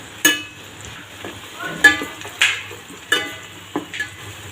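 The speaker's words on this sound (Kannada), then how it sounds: "ಇದು ಹಸಿ ಖಾರದ ಪೇಸ್ಟ್ ರೀ ಹಿಂಗೆ ಹಾಕೊಳತ್ತೀನಿ ರೀ" Green chili paste and curry leaves hit hot oil in a pan while cooking a chickpea palya, giving a few bursts of sizzle with scraping stir clatter at close range.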